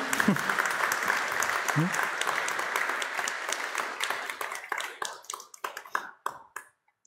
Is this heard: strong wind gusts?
no